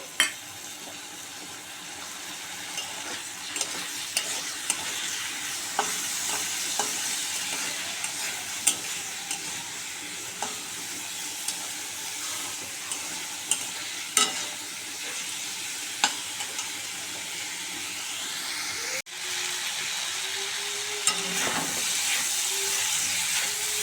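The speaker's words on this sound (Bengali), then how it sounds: "একটু জল দিয়ে ভালো করে কষবো মশলাটাকে" Spice masala with Kashmiri chilli powder and a splash of water frying and being stirred in a pan for a mushroom curry, giving a steady close sizzle and hiss with scattered scraping stir strokes throughout, no voices.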